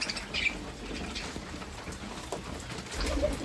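Pigeons in a loft coo softly while eating, low murmuring calls over a steady rustle, with a brief higher chirp early and a fuller coo near the end, close by.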